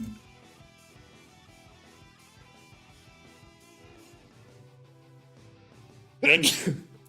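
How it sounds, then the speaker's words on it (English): Quiet background with faint music, then a single loud, sharp sneeze bursts out near the end. "I gotta sneeze real quick."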